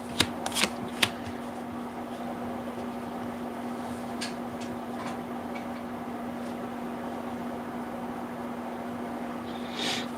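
Tarot cards are shuffled close up in a few quick riffling bursts at the start, then a long stretch of quiet steady hum broken by faint card clicks and one more soft shuffle near the end.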